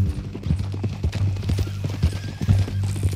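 Steady clip-clop of a horse's hooves in Red Dead Redemption 2, a continuous rhythmic walking gait over a low ambient hum, with a faint whinny mixed into the game sound.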